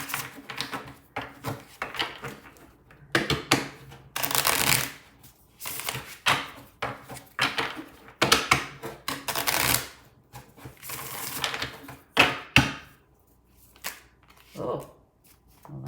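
A deck of Delos Tarot cards being shuffled in repeated bursts of crisp riffling and slapping, close and fairly loud, with short pauses between rounds.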